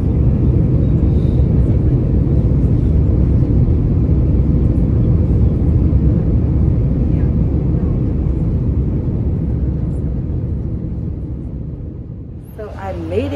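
Inside an airplane cabin during boarding, a steady low engine and ventilation rumble fills the space and fades slightly near the end, with brief voices rising at the close.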